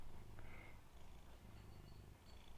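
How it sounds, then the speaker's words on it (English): A cat purrs very softly up close, a continuous low rhythmic rumble with no talking over it. "Purring right now."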